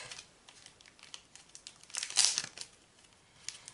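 Paper wrapping pulled out and crinkled while unboxing a ZenPop Halloween subscription box, heard as close, soft rustling with a sharper burst of crinkling midway, then scattered small rustles.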